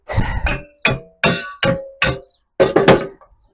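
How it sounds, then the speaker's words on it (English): A metal repair panel is bent in a vise and worked by hand, with a series of sharp metallic knocks and clanks, about six distinct close hits in a loud, uneven rhythm and no talking. "Gently just curve this in a vise and work it a bit."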